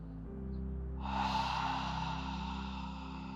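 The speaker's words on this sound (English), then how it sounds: "open the mouth, and exhale" A single open-mouthed exhale during a qigong exercise, a soft breathy rush that starts after a second and trails off over a steady low hum, close and fairly quiet.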